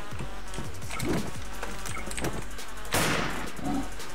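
Gunfire in the Wolfteam video game comes as a run of rapid, sharp shots in an uneven rhythm, with a louder crack near the end, set against steady in-game background noise.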